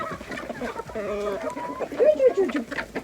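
Hens at an Armenian home flock clucking close by in short, uneven bursts, with a few sharper squawks partway through, over a busy background.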